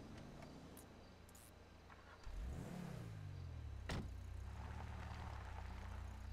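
A car engine in a city-driving video game starts up, then settles into a steady low hum as the vehicle pulls away, with a brief rising whine partway through; no one speaks.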